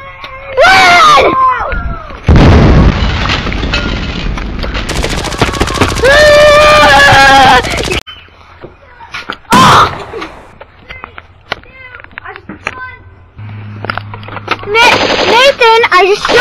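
Nerf blasters fire in a first-person backyard Nerf war, loud bursts of rapid mechanical shots and thumps mixed with shouting, screaming and excited talk close by.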